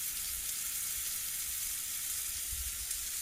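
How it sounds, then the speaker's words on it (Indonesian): Chicken pieces grilling, brushed with a margarine and spice mixture, give a steady, even sizzle with faint low crackles, continuous and alone throughout. "Kita panggang sampai ada aroma smoky dan terlihat seperti terbakar"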